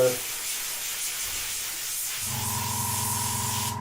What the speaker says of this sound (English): so just going to spray through now to